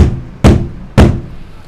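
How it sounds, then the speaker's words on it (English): Two dull, heavy knocks on a soundproofed hotel window, each a low thump spaced about half a second apart and decaying quickly, with no ringing resonance behind them. "you hear a thud"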